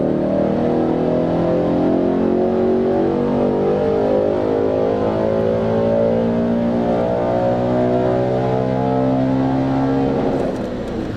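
A tuned Audi B7 RS4 with 160,000 miles revs hard and holds against the rev limiter, a loud close engine roar with a steady buzzing pulse that drops away at the end.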